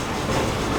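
A train rolls along its rails in the Red Dead Redemption video game, a steady, dense rumble with a continuous clattering wash, loud and unbroken.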